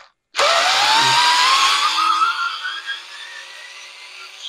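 A Bauer electric screwdriver drives a screw in one sustained burst, a sharp motor whine that starts abruptly, rises in pitch, then eases and trails off as the screw seats, loud and close with no talk.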